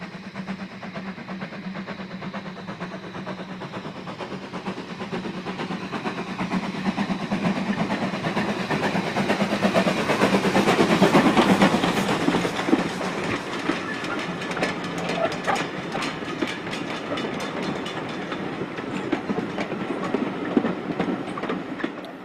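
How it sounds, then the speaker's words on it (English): Steam locomotive Nunlow running non-stop through Oakworth station on a heritage railway, a rising rumble and clickety-clack of wheels and carriages that peaks as it passes close by, then fades slightly. "Nunlow is seen finally as it passes non-stop through Oakworth."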